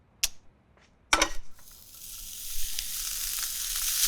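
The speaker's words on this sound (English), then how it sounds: "I'm just gonna throw some pancetta in it and sizzle it up and make it nice and crispy" Pancetta dropped into a hot cast iron pan, a couple of sharp clatters followed by a steady, rising hiss of sizzling fat that fills the rest, close and loud with no voices.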